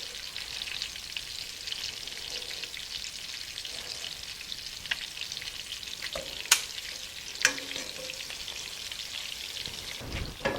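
Porcupine meatballs brown in a pan with a continuous close sizzle and crackle, broken by a few sharp clicks and scrapes as they are moved, with no talking.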